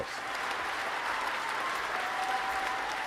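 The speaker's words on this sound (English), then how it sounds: "Let's give these guys a round of applause." A studio audience applauds steadily after the first round of a movie quiz show, a dense, even wash of clapping that holds at the same level throughout with no talk over it.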